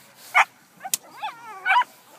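Young personal protection dog puppies in training, including a schnauzer and a black German Shepherd, give a few short high yips and whimpering barks, spaced irregularly and close by, with no talk.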